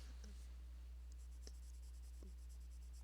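A Mitsubishi Uni coloured pencil lightly colours on paper with faint, soft scratchy strokes and occasional ticks, quiet and close, with a steady low hum beneath.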